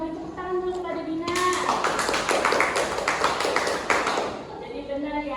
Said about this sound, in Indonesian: beri tepuk tangan dulu pada Dina